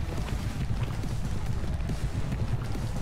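Horse hooves gallop in a rapid, continuous drumming in the video game Horse Racing 2016, mixed with wind-like rushing noise and no voices.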